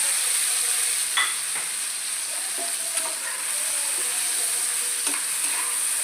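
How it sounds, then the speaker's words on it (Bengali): Tomatoes and green chillies sizzle steadily in a hot pan for a chana kofta curry, with a few clear scrapes and knocks of a stirring spoon against the pan over a constant frying hiss. "এবারে এইখানে এই টমেটোগুলো আমি দিয়ে দিলাম, টমেটো আর কাঁচা লঙ্কা।"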